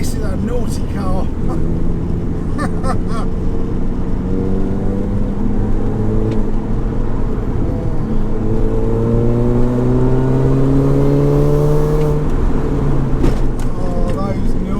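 A modified Mini R53 Cooper S drones loudly while driving, its engine pitch climbing and falling through gear changes over road rumble, with someone talking in the cabin over it.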